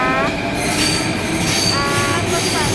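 A metro train in Athens runs with loud, steady rumbling, and high wheel squeals rise and fade through it at close range.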